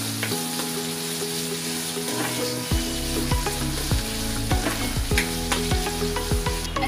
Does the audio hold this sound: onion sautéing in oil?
yes